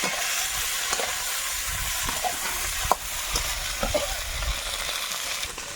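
Malabar spinach and egg fry in a hot pan with a steady, dense sizzle that continues throughout, broken by a few faint clicks and scrapes of a utensil.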